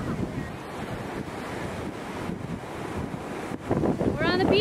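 Strong wind buffets the microphone on Sarasota Beach while ocean surf rumbles continuously nearby, a loud broadband roar that swells toward the end, with a voice briefly audible under the noise.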